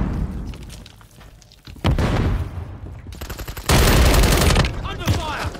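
Rapid automatic gunfire from Call of Duty: Modern Warfare III multiplayer, loud bursts of sustained fire with sharp shots and booms, alternating with quieter stretches under a voice.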